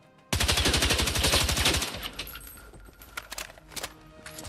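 Rapid automatic gunfire in the video game Battlefield 6, a burst of about a dozen sharp evenly spaced shots lasting over a second, followed by scattered fainter impacts and clicks, with no talk.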